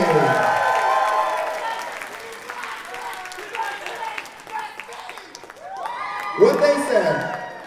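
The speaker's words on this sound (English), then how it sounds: "one more huge round of applause for" Crowd applause and scattered cheers for a dancer at a dance battle at Bewhiskered 2026 Whisker World Arcade, clapping running under an announcer's amplified talk and swelling again with whoops near the end.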